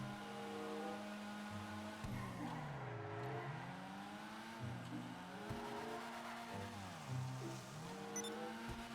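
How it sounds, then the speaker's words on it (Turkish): A Volkswagen car in GTA 5 Online drives with a steady engine drone, its pitch rising and falling through repeated gear shifts, heard alone without talk. "Şimdi arabamı burada süreceğim."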